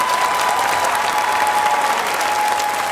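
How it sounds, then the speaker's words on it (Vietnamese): An audience applauds a writer on stage, a dense uniform round of clapping that stays loud and even for a few seconds, with a faint steady tone beneath it. "một tràng pháo tay cho văn sĩ"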